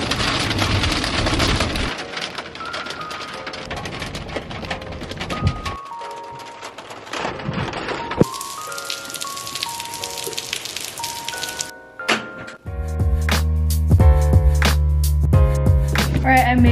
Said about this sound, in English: Is it literally hailing right now?